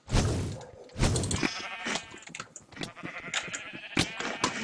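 Sheep bleat repeatedly in a Minecraft Sheep Quest mini-game, the synthetic baas close and loud among clicking keyboard taps, with several overlapping calls in quick succession.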